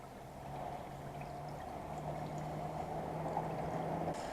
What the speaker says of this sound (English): Here's the soy sauce.